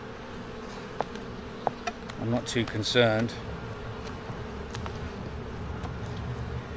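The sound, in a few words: honey bees buzzing during hive inspection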